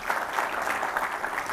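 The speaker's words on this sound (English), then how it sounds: "Big round of applause for everybody that made this happen." Brief burst of audience applause at a tech event held at Google, a steady wash of clapping from a gathered crowd.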